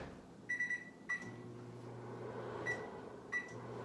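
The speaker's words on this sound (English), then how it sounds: "Put it in the microwave." A microwave oven hums low and steadily, with a few sharp beeps and clicks close by.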